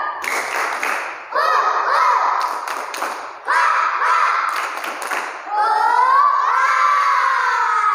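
Children in a storytelling session clap and shout together in a spirited chant, loud and close, in several bursts with brief pauses between, their voices rising and falling in pitch over the rhythmic claps.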